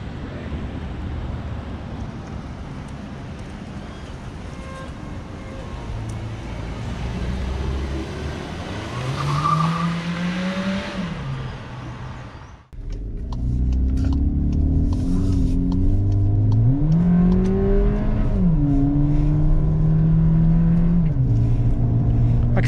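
A Volkswagen car with a 1.4 TSI engine drives and accelerates, its engine note rising and falling through gear changes, loud and close, with a sharp cut midway and heavier revving afterwards.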